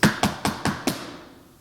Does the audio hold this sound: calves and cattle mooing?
no